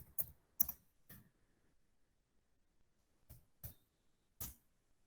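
A few sharp, sparse keystrokes on a computer keyboard, three clicks, a pause of about two seconds, then three more, quiet and close with silence between and no talking.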